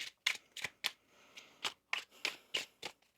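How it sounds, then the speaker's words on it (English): Tarot cards are shuffled in quick, crisp riffles, close and fairly quiet, in a series of short bursts with no talking. "One more shuffle here."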